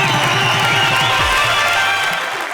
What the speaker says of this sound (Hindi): इनके लिए एक बार जरा जोरदार तालियां